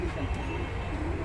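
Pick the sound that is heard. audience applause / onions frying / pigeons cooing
pigeons cooing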